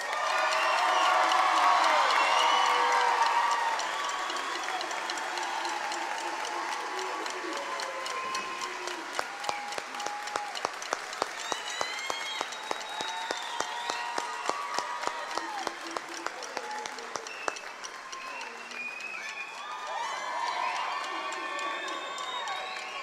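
A large commencement crowd applauds a graduating high school class, with loud sustained clapping mixed with cheers and whoops, then rhythmic clapping and settling into a murmur.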